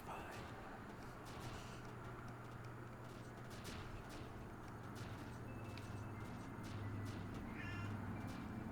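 A cat meowing indoors, a couple of short meows near the end over a constant low hum and background noise.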